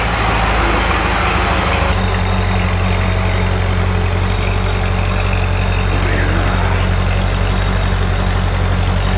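Chevrolet Corvette C6 Z06 V8 with a heads and cam install, idling steadily in neutral with a deep, loud rumble and strong low throb throughout, with no one talking.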